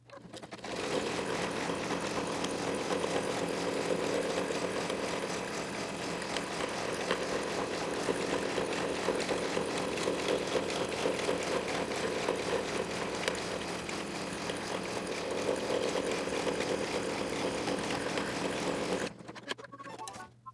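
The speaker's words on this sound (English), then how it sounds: "we'll take it back to the machine and we'll run that last stitch" An embroidery machine stitches the final pass of an in-the-hoop Valentine candy keeper, a steady rapid mechanical whirring and ticking held for about nineteen seconds before stopping abruptly.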